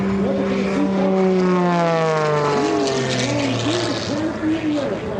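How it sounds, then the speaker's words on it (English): A propeller airplane engine roars loudly at an airshow, its pitch swooping up and down as it revs through aerobatic and negative-G maneuvers, with a voice faintly underneath. "really winds this airplane up on the way down"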